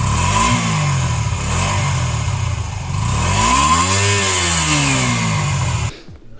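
Honda Shadow 125 motorcycle engine revs up and down in several rising and falling sweeps, loud and close, before cutting off abruptly near the end.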